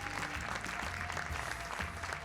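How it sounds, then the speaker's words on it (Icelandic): A crowd at an Icelandic U21 strength competition applauds the flag bearers with sustained, dense clapping that stays steady and close throughout. "við viljum að þið klappið alveg sérstaklega fyrir fánaberunum, þeim Jóhönnu Sigurlilju og Ástu Hólmfríði."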